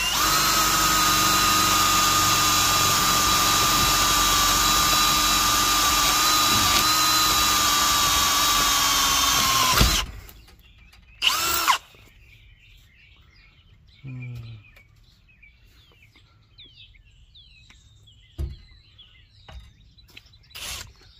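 A power drill drills holes in a Ford, running loud and continuously for about ten seconds, then stops, leaving quiet surroundings with faint birdsong and a few brief bumps.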